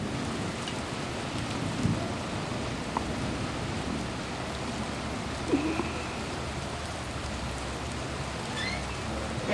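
Heavy rain pours steadily near a tornado at Pawhuska, a loud, dense, continuous roar with a few faint crackles and no voices.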